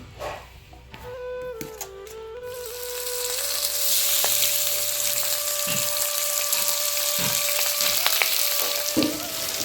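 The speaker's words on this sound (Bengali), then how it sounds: "সম্পূর্ণ মাছ ভাজা হয়ে গেছে, এখন উঠে নিব।" Boal fish frying in oil in a pan, a strong, steady sizzle that swells and holds, with occasional clinks and scrapes of a utensil and a faint tonal hum behind it.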